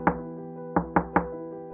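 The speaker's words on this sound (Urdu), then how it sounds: "اچانک اسلم کے گھر کے دروازے پر دستک ہوئی۔" Knocking on the door of a house, four sharp raps: a single knock, a pause, then three quick knocks in a row, close and clear over a faint steady background tone.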